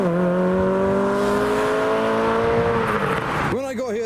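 A retro Ford Cortina arriving at a car show, its engine held at a steady drone before a sharp rev with a rising and falling pitch near the end, with people talking faintly in the background.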